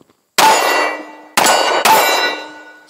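Three 10mm pistol rounds strike a steel target outdoors, each a loud ringing clang that decays slowly, the last two coming close together.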